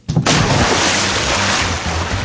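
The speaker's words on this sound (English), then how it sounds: "That's the sound of cool, refreshing water as you splash into your new Radiant Pool" A big splash of water into a backyard swimming pool, a single loud burst that fills the clip and then washes on as steady churning water, with no talking.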